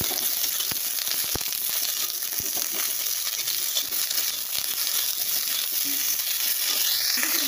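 Something, likely fish, fries steadily in a pan with a continuous broadband sizzle, marked by occasional sharp pops and crackles throughout, with no talking.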